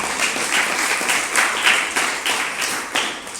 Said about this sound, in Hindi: ये कहानी में ताली बजाने की ज़रूरत नहीं थी